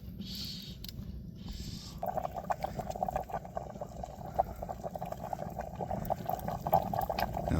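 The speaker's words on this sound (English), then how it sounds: "bubbling and boiling away" Turkey chili bubbles and boils in a cauldron set over hot coals outdoors, a soft continuous simmer with small popping bubbles and occasional crackles, fairly quiet and close, with no voices.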